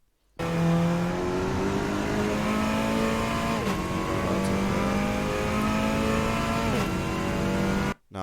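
A Cupra Leon race car engine revs in a racing video game at Vallelunga, a steady droning tone that climbs through gears with short throttle blips and brief dips at the shifts, loud and close with no talk.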